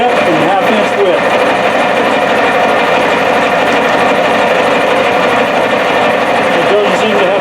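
A machine tool taking a hand-fed cut one-sixteenth inch deep and half an inch wide at 180 RPM, giving a loud, steady grinding chatter throughout with no pause.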